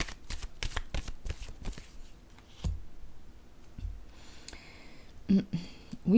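A card placed on a box amid a series of soft papery card taps and shuffling sounds, close and quiet, ending with a faint voice.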